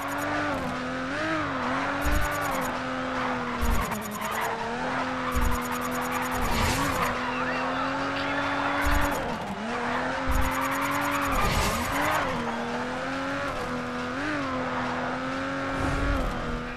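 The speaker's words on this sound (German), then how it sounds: "Schade, den kommt man nicht aufrechthalten, den Drift." Car drifting through corners in the racing video game GRID, a loud continuous engine note with repeated tire squeals and skids in bursts, rising and falling revs throughout, no voices.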